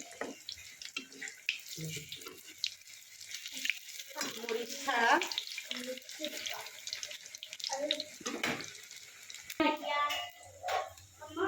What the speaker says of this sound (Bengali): এভাবে করে সুন্দর করে আলতো হাতে আস্তে আস্তে করে ভাজি করে নেবেন আলুটা